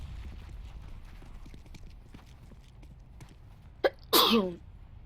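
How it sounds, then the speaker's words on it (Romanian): A single close sneeze bursts out sharply near the end, preceded by a quick intake of breath, standing alone against a quiet background of faint game noise. "eu stau să strănut"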